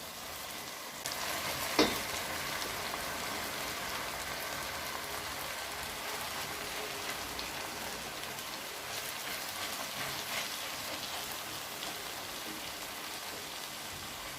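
Purslane fries in a pan with tomatoes, giving a steady, even sizzle throughout. A brief utensil clink against the pan marks the stirring early on, and nobody speaks.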